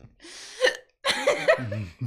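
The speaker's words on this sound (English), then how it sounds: "Way to start off a stream with the hiccups." Two sharp hiccups close to the microphone, the second followed by a short voiced sound, at the start of a livestream.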